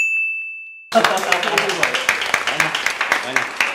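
A crowd bursts into applause and clapping for a guest, a host's show applause starting abruptly after a brief steady tone, with dense sustained claps throughout.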